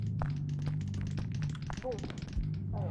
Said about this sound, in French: Il y a des petits bruits de pattes derrière moi.